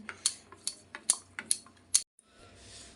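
Batter with chopped onion, chilli, carrot and cucumber is stirred in a bowl, giving a regular series of sharp clicks and taps of utensil on bowl, about six in quick rhythm, then a soft scraping swish.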